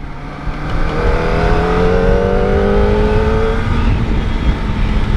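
A new Kawasaki ZX25R motorcycle engine revs in short, restrained blips on a ride through narrow alleys, giving a steady, close, buzzing drone whose pitch rises and falls gently without being pushed hard. No one speaks.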